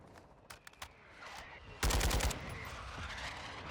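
Gunfire in the Warzone video game on the Vondel map: a few sharp isolated shots, then a loud close burst of rapid automatic fire that fades into a sustained noisy rumble of ongoing combat.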